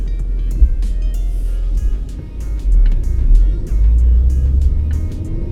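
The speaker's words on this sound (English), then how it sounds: "So I'm going to give the car a few minutes to kind of just warm up." A BMW E46 engine idles steadily while warming up, a continuous low rumble with a slight rise in level partway through and no talking.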